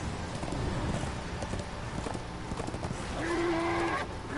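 Horse hooves clip-clopping in Darksiders II: steady hoof beats under a busy game soundscape, continuous and moderately loud, with a brief tonal game cue near the end.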